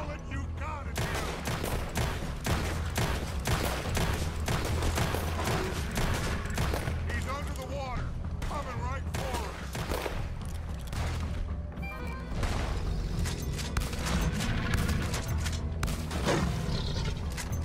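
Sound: gunfire, shooting bullets at a monster

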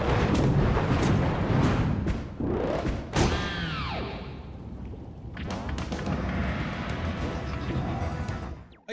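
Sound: Bullet Bills firing in video game Super Mario Bros. Wonder

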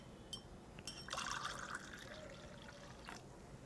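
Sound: water being poured into lemon mint sharbat

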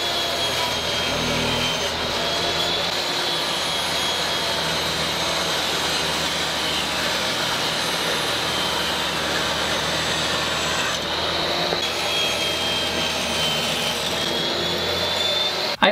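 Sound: saw cutting wood pieces on crosscut sled

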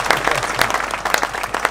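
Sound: audience applause at a CD presentation

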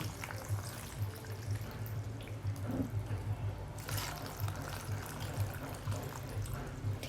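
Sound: pouring cooled pickling brine over mangoes

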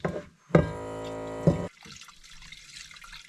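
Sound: rinsing a camping pot with water

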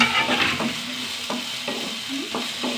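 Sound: onion and garlic sautéing in a pan

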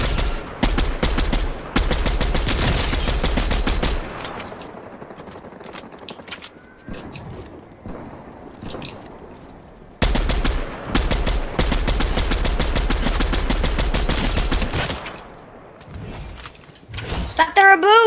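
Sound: gunfire in the video game Fortnite

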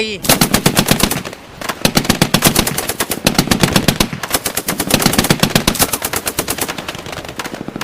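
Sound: heavy and light machine gun fire on beach

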